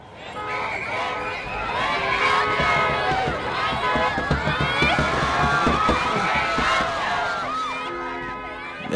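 An overheated crowd in Vietnam surges in dense chaos, many voices shouting and cheering together with sharp bursts and whistles across the nine seconds, loud and close throughout.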